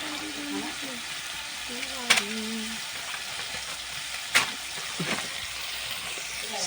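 Prawns frying in a pan for a shapla and prawn curry, a steady soft sizzle with a few sharp scrapes and clinks of stirring, and a voice talking briefly in the background.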